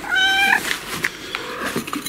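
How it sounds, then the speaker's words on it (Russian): A cat meows at a scrap metal yard, one clear rising meow near the start followed by quieter rustling and small movements, close by with no talk over it. "Вот наш кот."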